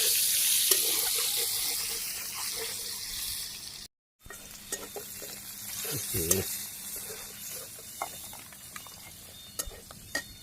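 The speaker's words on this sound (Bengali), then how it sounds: "আলু দিয়ে দিলাম, পেঁয়াজ কুচি দিচ্ছি, আলু দিয়ে দিলাম, লবণ" Potatoes and chopped onion fry in a pan in a Bangladeshi village kitchen, with a close, steady sizzle and a brief gap, then scattered clinks and stirring knocks over softer frying.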